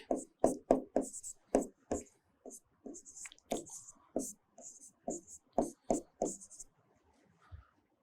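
Pen strokes writing out an exam-style answer by hand, a series of close, scratchy bursts of varying length with brief pauses between them, fairly loud and alone with no talking.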